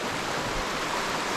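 A hidden waterfall near Natham, Madurai, pours as a continuous, loud, broadband rush of falling water, close by and unbroken, with no voices over it.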